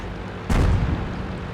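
A single deep, booming tank cannon shot in the World of Tanks video game, a sudden heavy thump with a short rumbling tail over steady background noise.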